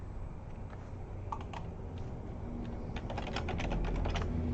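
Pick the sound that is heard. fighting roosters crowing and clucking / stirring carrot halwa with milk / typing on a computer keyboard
typing on a computer keyboard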